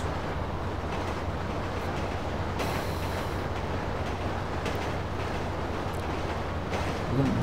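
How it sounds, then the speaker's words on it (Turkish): Train speeding along the tracks in the video game Grand Theft Auto V, a continuous loud rushing rumble with steady low drone and rattling, heard alone throughout. "Deli gibi hızlandı bu tren."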